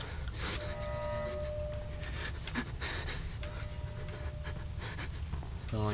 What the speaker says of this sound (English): I don't like the breathing in my ear.